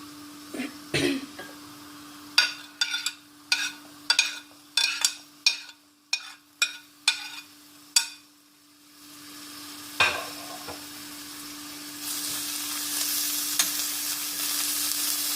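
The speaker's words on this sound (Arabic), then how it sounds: "في المقيله ديالي غادي ندير شويه تاع الزيت، وغادي نزيد البصيله ديالي" Onion frying in a little oil in a pan: a run of sharp stirring clicks and scrapes, then a steady, close sizzle that builds toward the end.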